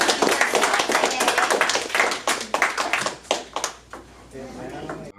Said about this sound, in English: Give yourselves a big round of applause for him.